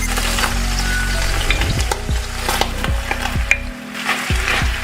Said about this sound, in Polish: Całość podsmażam mieszając.